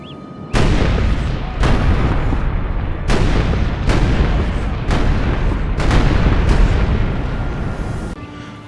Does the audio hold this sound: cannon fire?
yes